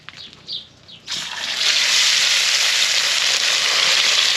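Fish dropped into hot oil in a pan at a family outdoor cookout, a brief clatter and then a loud, close, sustained hissing sizzle that swells and holds steady.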